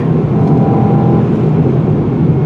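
A turbocharged 2021 Mercedes-AMG E63 S sedan engine gives off a steady, even drone with a low rumble that holds at a constant level from start to end, with no voices over it.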